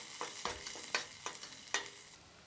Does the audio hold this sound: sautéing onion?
yes